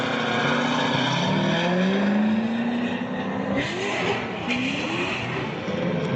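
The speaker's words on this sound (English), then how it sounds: "Chris, that car sounds wild" A drift car engine revs hard at a speedway during drifting competition qualifying, loud and continuous with rising and falling pitch sweeps as the throttle works, close to the listener and alone without talk.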